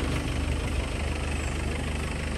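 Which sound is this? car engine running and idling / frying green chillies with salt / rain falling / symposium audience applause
car engine running and idling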